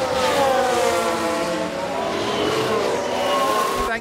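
A Ferrari Formula 1 car engine in F1 Manager 2022 gives a steady, loud, high-pitched whine that holds throughout with slight pitch shifts, running continuously.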